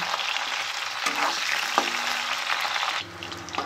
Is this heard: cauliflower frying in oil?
yes